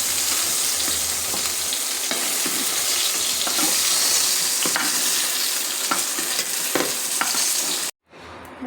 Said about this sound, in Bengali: আমার বেগুনগুলো ভাজা হয়ে গেছে